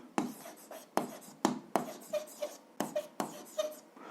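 Pen strokes scratch out an algebra equation on paper in a run of short, distinct bursts, about eight quick strokes with brief pauses between, close and fairly quiet.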